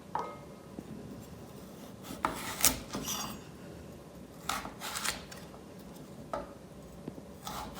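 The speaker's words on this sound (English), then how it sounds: "I'm just going to peel the carrots" Carrots for chicken noodle soup are peeled with quiet rasping strokes, a few bursts of scraping spaced out over a soft, steady background, up close with no talking.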